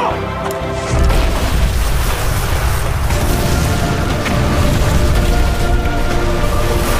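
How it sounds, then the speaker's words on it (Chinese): A roadside bomb set as a trap goes off in an action film scene, with a sudden loud boom followed by a sustained roaring rumble and debris noise. "还在路上布置了炸弹，跟在后面的士兵毫无防备地触发了陷阱"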